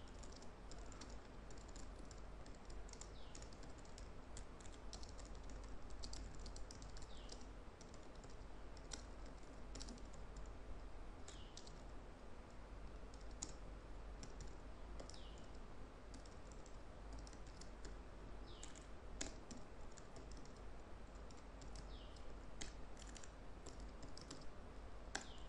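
Rapid, continuous typing on a computer keyboard, faint and fairly distant over a low steady hum, with no one talking.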